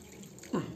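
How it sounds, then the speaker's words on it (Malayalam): A short splash of water pouring into a pot of noodles, a brief burst of liquid near the end against a quiet background. "അതുകൊണ്ട് നമുക്ക് കുറച്ച് വെള്ളം കൂടെ കൊണ്ട് ഒഴിച്ചു കൊടുക്കാം"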